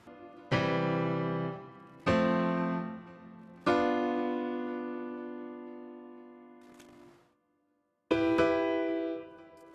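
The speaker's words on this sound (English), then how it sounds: "Or I could move in fourths. It would sound like this." Four separate sustained notes of a melody moving in fourths ring out one after another, each struck clearly and left to decay, with a short silence before the last; no talking.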